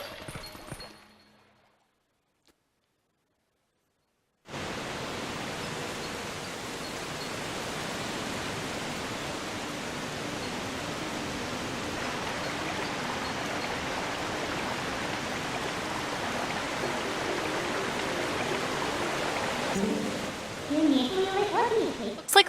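Rushing river water in The Legend of Zelda: Twilight Princess HD near Lake Hylia, a steady broad hiss of fast flow that starts abruptly after near silence and continues evenly to the end.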